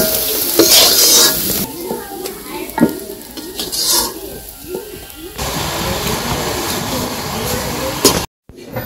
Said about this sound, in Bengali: বড়া ভাজা হয়ে গেছে, নামিয়ে নেই।